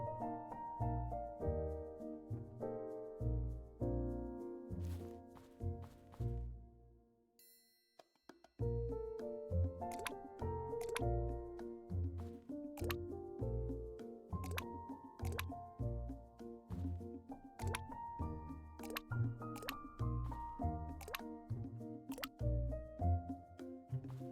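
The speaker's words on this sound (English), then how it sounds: "Go ahead and water at least 10 crops for me." Crops being watered in the video game Cosmic Coop, with repeated plopping drips and chimes over a cheerful tonal music bed, steady and moderately loud, with a brief pause partway through.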